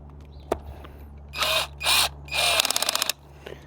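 Short power-driver bursts drive screws to mount an inline figure skating blade frame onto a skate boot, three whirring runs followed by a rapid ratcheting clatter, close and loud with no talk.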